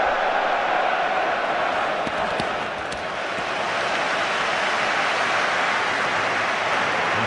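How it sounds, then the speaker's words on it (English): A stadium football crowd at the England vs Croatia Euro 2008 qualifier roars continuously, a dense wash of chanting and noise that stays loud and steady with no break. "the crowd are doing their best to help dig England out of a great big hole"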